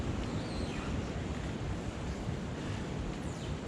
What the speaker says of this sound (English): We've had a few wind gusts coming through, but the hammock and the tarp is coping nicely.